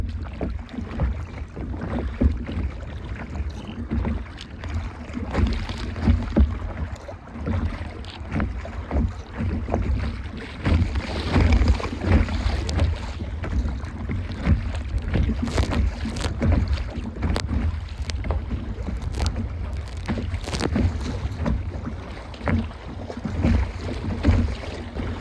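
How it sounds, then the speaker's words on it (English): Big waves slapping and splashing against a solo kayak on the St. Lawrence River in Southern Ontario, steady rough water wash mixed with gusty wind noise on the microphone. "The waves are pretty big, but they're manageable. A couple are splashing inside the kayak"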